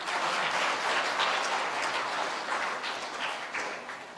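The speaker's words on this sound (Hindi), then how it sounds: "तालियां मारिए।" An audience at a Hindu satsang spiritual gathering breaks into sustained applause, a dense, even wash of clapping that holds steady for a few seconds before gradually thinning out.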